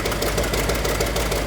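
Car engine idling after starting, a loud, steady low rumble with a slight rhythmic knock throughout and no voices.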